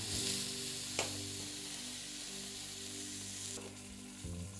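Goose breast sears in a hot pan with a constant, close, even sizzle and a low hum beneath it, and one brief clatter early on.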